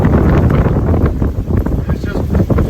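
Hurricane Sally wind gusts near 60 mph in Fairhope, Alabama, loud rumbling buffeting that swells and dips in gusts across the whole clip, with a voice speaking beneath the roar.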